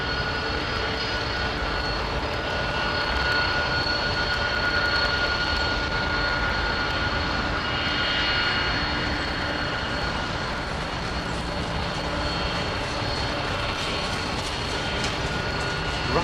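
A Lufthansa jet bound for Munich makes an intersection takeoff at London Heathrow, a steady broad engine roar that fills the scene, swelling slightly toward the middle and holding at a constant distance.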